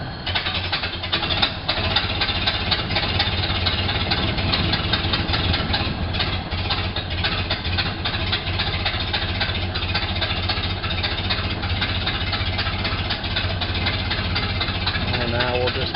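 A Ford Model A engine starts and settles into a steady, loud, close-up idle that runs throughout, its chugging beat continuous.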